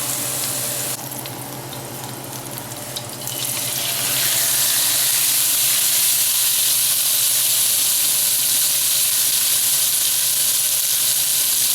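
Top sirloin steak searing in a pan, a loud steady close sizzle that swells after a few seconds into a dense hiss and holds, with no voices.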